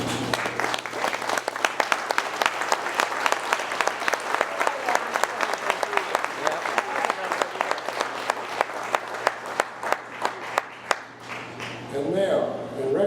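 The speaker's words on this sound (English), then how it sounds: "So if we would please stand and recognize them and give them a little applause." A standing audience at a Realtors awards gala applauds, many sharp distinct claps forming a loud, rhythmic burst that runs for over ten seconds before thinning out, with a murmur of voices near the close.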